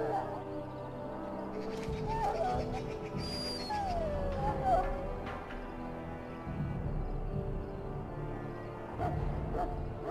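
Dog whimpering and whining in Dragon Age Origins, a few thin high whines rising and falling over a steady game music bed, with low background rumble.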